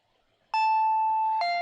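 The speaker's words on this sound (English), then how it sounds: "The doorbell rang again as if to urge me on." A doorbell sound effect gives a two-tone electronic ding-dong. The first tone is held, then a lower second tone follows about a second later, ringing clear and sustained with no speech.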